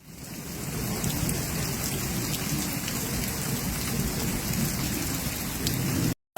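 A thunderstorm in France's PACA region brings heavy, constant rain and a low rumble of thunder; the loud downpour continues without a break, then cuts off abruptly at the end.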